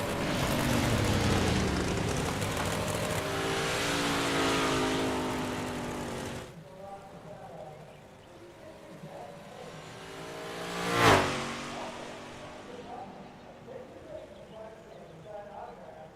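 Race cars warming up at Ohsweken Speedway, a loud steady engine drone with harmonic whine for several seconds, then fading to a distant hum, with one sharp swell as a car passes close; a voice speaks over part of it.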